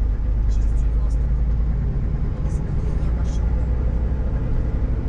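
Car rolling through a town carrying equipment out for repair, a steady low engine and road rumble close and continuous throughout, with faint background murmurs.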